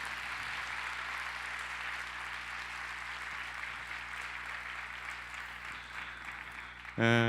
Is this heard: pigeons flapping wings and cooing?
no